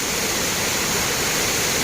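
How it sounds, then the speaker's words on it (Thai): A waterfall pours in a steady, dense roar of broadband rushing water near a Thai temple, loud and unbroken throughout with no voices. "ดูน้ำตกนะคะ สวยงามมากๆเลยนะคะ"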